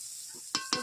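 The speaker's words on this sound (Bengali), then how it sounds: "আমি বিনসগুলো দিয়ে দিচ্ছি, তেল গরম হয়ে গেছে। এভাবে নেড়ে নিচ্ছি বিনসগুলোকে।" Green beans fry in hot oil with a steady close hiss, broken by two quick scraping knocks of a spatula stirring them in the pan.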